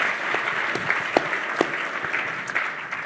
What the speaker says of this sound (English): Give David a big round of applause